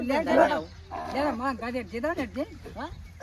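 A dog barks and yips in a quick run of sharp, close calls, with some whimpering tones mixed in.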